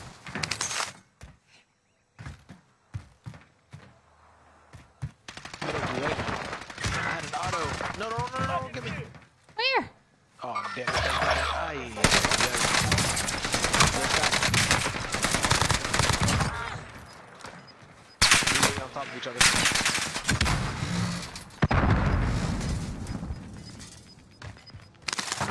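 Gunfire in a first-person shooter video game, with sniper fire among repeated sharp shots and bursts scattered through the scene, heard in the foreground under and between loud, excited talk from players.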